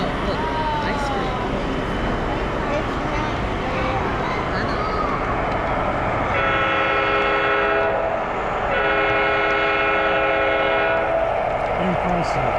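A model train runs on a working layout display at the 2023 York PA Fair, its horn sounding in two long, loud blasts over steady rumbling and crowd chatter, with voices talking nearby.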